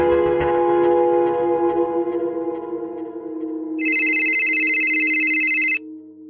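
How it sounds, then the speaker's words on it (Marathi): A telephone rings loudly on its own in the later part, a steady electronic ring over background music, coming up shortly before a call is answered in a Marathi TV drama scene. "डॉलीला फोन लावा आणि मुलांबद्दल विचारा."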